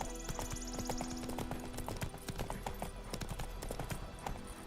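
Hooves of Roach, a horse in the video game The Witcher 3: Wild Hunt, clip-clop in a steady rapid rhythm, fairly close, with a snort or short whinny near the start.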